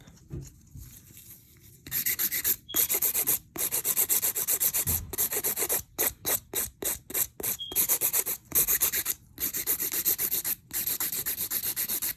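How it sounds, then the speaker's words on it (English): Steady rasping of a nail file scraping back and forth across an acrylic nail, in close, loud bursts with brief pauses between strokes. "So we're gonna go ahead and file the top."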